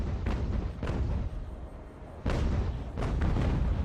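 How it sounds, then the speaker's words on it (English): Cannons on sailing warships fire grape shot in the Ultimate Admiral: Age of Sail naval battle, set at the 1775 Bunker Hill landings: a series of heavy booming blasts, a few spread irregularly, then a louder cluster near the end over a constant rumble. "Let's come in for grape shot again."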